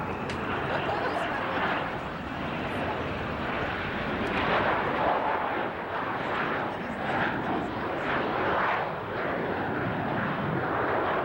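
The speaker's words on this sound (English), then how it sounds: "Yeah, it's supposed to be a flyby." An aircraft on a flyby near an airport makes a continuous, fairly loud rushing engine roar that swells gently across the clip, with faint voices mixed in.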